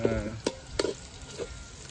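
Onions fry in a pan, a quiet sizzle broken by a few soft scraping stirs spaced about half a second apart.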